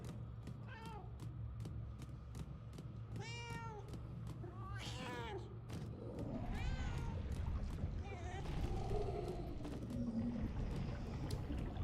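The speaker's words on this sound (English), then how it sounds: "Shoot, cat, get out of here." A cat meows repeatedly in the Murdered: Soul Suspect video game, several clear drawn-out mews spread across the span over a steady low hum, with a person talking in between.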